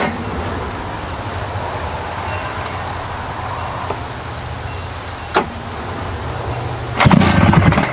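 Cold start attempt on a Rupp 440 two-stroke snowmobile engine: steady mechanical churning with a sharp knock midway and a louder burst of cranking near the end.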